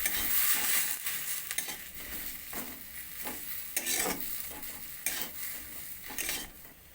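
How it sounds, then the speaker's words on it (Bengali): Bread chop filling mixed with chopped coriander leaves is stirred in a pan, a spatula scraping and knocking in repeated strokes over a soft steady sizzle, close and alone with no voices. "ধনে পাতা কুচানো দিয়ে আবারও মিশিয়ে নেওয়া"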